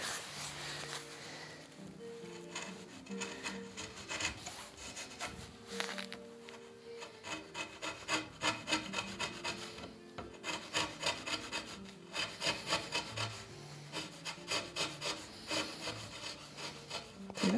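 Hand chisel paring wood while shaping a Greenland paddle, with steady rhythmic scraping and rasping strokes, close and continuous, no talking.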